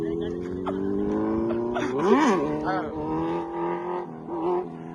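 A Kawasaki Z900 motorcycle engine revs hard for a wheelie, its pitch rising and falling through several sharp surges, close and loud, with voices talking over it.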